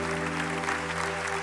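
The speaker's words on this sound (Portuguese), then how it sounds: "Nunca aplaudiu tanto, né?" A church congregation claps in a steady, dense wash of applause, heard over a held organ or keyboard chord.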